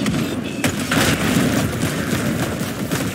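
Enemy rockets explode in a shooter game, heavy booming blasts and crackling gunfire rumbling continuously and loudly for a few seconds.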